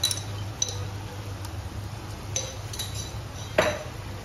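A spoon stirs soy sauce, green chilli sauce and Schezwan chutney into Manchurian gravy, leaving a few sparse metallic clinks against the pan over a steady low hum, with no talking.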